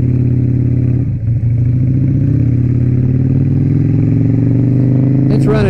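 A Harley Sportster 1200 motorcycle engine runs steadily at a loud, close, even drone that lasts throughout and carries a slight rise near the end, with riding wind noise and someone talking over it.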